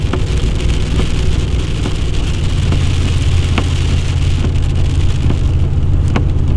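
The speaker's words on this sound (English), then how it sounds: "Yeah, there's some really heavy rain here." Heavy rain drums steadily on a car during a Saskatchewan storm chase, a loud continuous wash with a low engine rumble beneath it.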